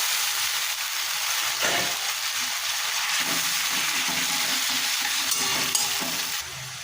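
Mashed kochu shak (taro leaf greens) hits a hot pan for a Bengali vetki kochushak ghonto, setting off a loud, steady, close sizzle and frying hiss that carries throughout with faint stirring.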